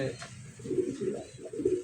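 Low, throaty pigeon cooing repeats in soft rolling bursts, close by, with a steady hum in the background.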